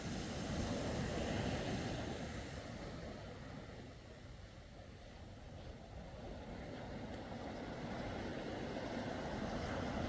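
Ocean waves break close to the shore on a steep-gradient beach at Porto Covo in Portugal, a continuous loud roar and wash of surf with wind noise buffeting the microphone, with no voices.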